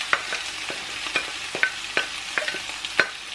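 Rice being stirred in a pan with kaffir lime leaves and ginger for nasi goreng rica rica, a spatula scraping in sharp, regular strokes over a soft sizzle.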